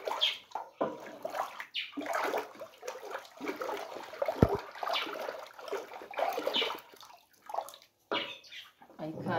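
Boiled water being poured while preparing a traditional Rwandan sorghum drink, an uneven splashing and trickling stream in short bursts and pauses, with people talking nearby.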